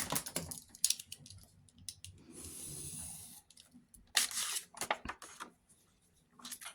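Scissors cut through an old book page being trimmed for a junk journal, giving a few close, crisp snips and a longer rustling slice of paper, with quiet handling noises between the cuts.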